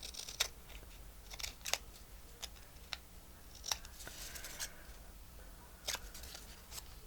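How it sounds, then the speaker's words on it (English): Long scissors cutting folded paper for a handmade journal envelope: several crisp, separate snips spaced irregularly over a quiet background, close and fairly soft, with no one talking. "I'm going to use my long scissors here."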